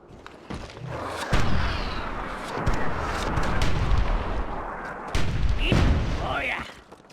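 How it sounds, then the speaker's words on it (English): Mortar artillery fire in the video game Myth: Soulblighter, a string of heavy booming blasts and thuds spread through the battle, loud and close, with no talk over it. "I gotta keep an eye on this to time my mortar shots"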